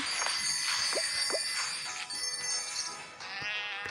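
Goats bleating in a farming video game, several short wavering bleats in quick succession over a bright, bell-tinged game soundtrack, fairly loud and near.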